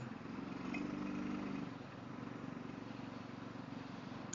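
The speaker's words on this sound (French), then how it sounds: "Ça fait un peu tracteur." A Suzuki DR 650 big single-cylinder motorcycle engine while riding, a low thumping drone with a brief swell in revs early on, then settling into a steady rumble, fairly quiet and with no talk.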